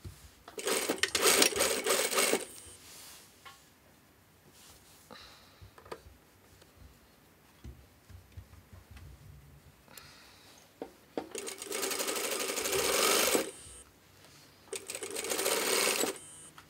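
Sewing machine stitching a shirt placket from the middle to the end tip of the stand, in loud buzzing bursts at the start and end with quieter handling sounds between.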